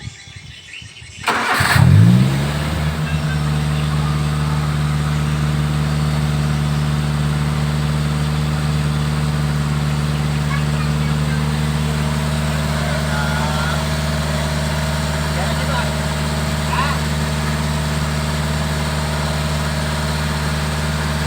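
A Daihatsu Gran Max pickup engine cranks and catches, then runs at a steady, loud 2000 RPM with a constant low rumble.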